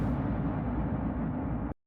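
A designed space explosion effect from a recorded track rumbles as a dense, low, noisy roar that holds fairly quietly for nearly two seconds before cutting off abruptly.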